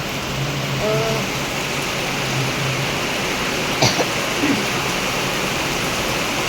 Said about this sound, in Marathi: पाऊस लईच यायला लागला